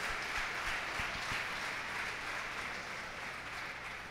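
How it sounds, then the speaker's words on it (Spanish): Outdoor audience at a Spanish national spearfishing championship weigh-in claps steadily, a moderate wash of applause with a few distinct near claps, no speech over it. "Un aplauso, por favor, para Aitor."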